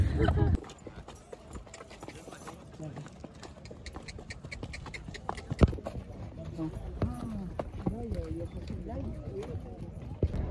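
Donkey hooves clip-clop along a desert path at Petra in Jordan, a steady run of hoofbeats under loud, close talk with outdoor background noise.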